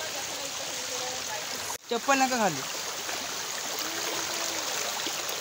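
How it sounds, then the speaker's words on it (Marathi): A small stream flows steadily as a family wades into it, a constant soft rush of water under brief talk and a short burst of voices. "आम्ही आता त्या ओढ्यात उतरलेलो आहोत. ओढ्याचं पाणी नॉर्मल, एकदम नॉर्मल आहे."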